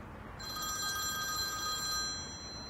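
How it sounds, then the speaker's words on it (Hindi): Electronic telephone bell ringing steadily indoors, a bright continuous trill that starts after a short quiet moment and stops just before the end, with no talk over it. "सेल्समैन का फोन है।"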